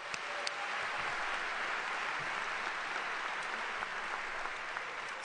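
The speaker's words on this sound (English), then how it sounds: "we should all give ourselves a round of applause for that" Graduating engineering students at the 2013 Swanson School of Engineering senior recognition ceremony clap in a dense, even round of applause that fills the hall and holds steady throughout.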